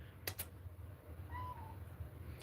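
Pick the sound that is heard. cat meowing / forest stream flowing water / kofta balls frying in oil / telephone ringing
cat meowing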